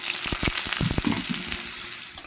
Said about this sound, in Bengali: পাঁচফোড়নটা ভাজা হয়ে গেছে দিয়ে দেব আমগুলো